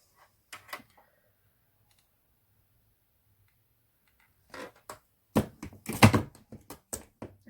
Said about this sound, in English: that's my glue gun falling over